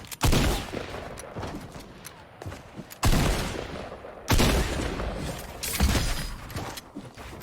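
A charge shotgun fires in a video game: four loud, sharp blasts spaced roughly one to one and a half seconds apart, each with a brief rumbling tail, close and prominent with no talk.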